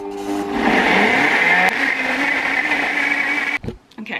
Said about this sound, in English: see how we get on with this nutri bullet. Here comes the noise.